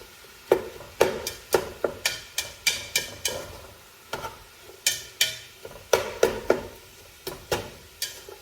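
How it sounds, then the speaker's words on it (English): A spoon stirs sausage browning in a soup pot for kale and sausage soup, giving a quick run of sharp scrapes and clacks in uneven bursts, close and moderately loud, with a soft sizzle underneath. "Just want to keep it stirring so it gets all browned."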